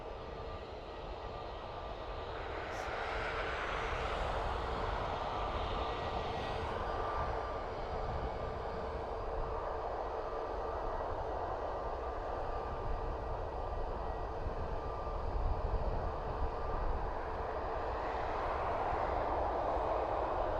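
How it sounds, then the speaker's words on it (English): Aer Lingus airliner on its takeoff roll at Dublin Airport, a distant, steady jet roar that swells slightly and rumbles on for twenty seconds under open-air hiss. "Aer Lingus on the roll."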